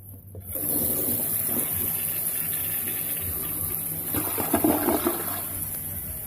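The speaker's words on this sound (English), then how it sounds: "Let's wait for her to stop and we're going to give her a flush." A newly installed toilet flushes close up, a loud rushing gush of water that swirls steadily and surges again toward the end, with no talking.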